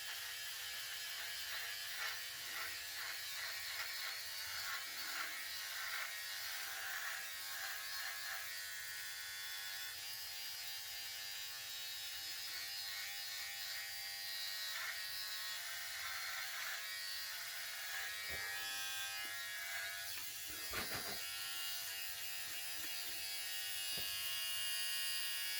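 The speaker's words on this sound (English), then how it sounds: "the razor will take care of that" An electric razor buzzes steadily and close up for the whole stretch as it shaves off a 17-day beard, the continuous hum broken by brief scraping and clicking bursts.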